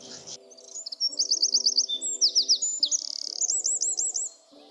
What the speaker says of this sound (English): Lovely bird, that. That's a bird. Lovely bird.